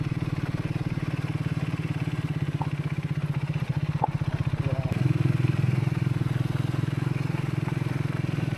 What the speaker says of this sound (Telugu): ఇప్పుడు ఎవరో బైక్ సంథింగ్ ఏదో వస్తుంది వెహికల్